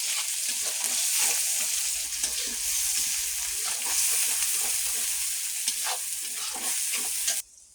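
Onions sizzling in hot oil with cumin seeds, bay leaf and dried red chilli, a steady close crackle with frequent stirring scrapes, continuous until an abrupt stop near the end.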